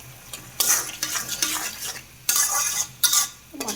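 Spices being stirred and fried in a pan with a small spoon during home cooking, in bursts of scraping and clinking metal against the pan over a soft background sizzle, close and fairly loud with short pauses between strokes.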